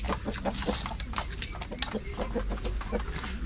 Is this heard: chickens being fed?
yes